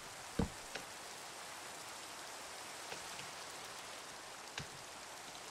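Rain falls steadily in the Minecraft video game, a soft continuous hiss with a few faint, sharper drop-like ticks scattered across it, heard alone without talk.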